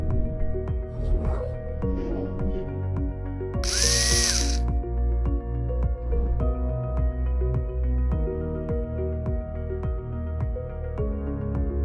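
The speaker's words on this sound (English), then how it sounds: "aluminium vertical tube profiles will be fixed to all brackets using stainless steel self-drilling screws" A power drill driving stainless steel self-drilling screws through aluminium tube profiles into brackets whirs in repeated bursts, loud and close, with ratcheting mechanical clicks and a brief high-pitched screech partway through.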